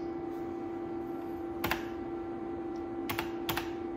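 Keystrokes on a computer keyboard while setting up UNIX (Minix) on a 486 PC, arriving as a quick burst of clicks around the middle and two more short bursts near the end, heard over a steady electrical hum from the machine.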